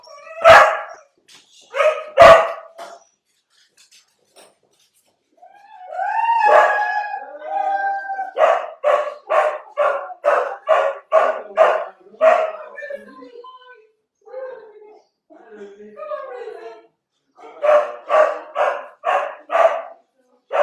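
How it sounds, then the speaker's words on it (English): Several dogs bark at length during a live midwife question-and-answer session indoors, with loud sharp barks, a howl, and rapid repeated yapping runs broken by short pauses, heard alone without talk. "Sorry about the dogs."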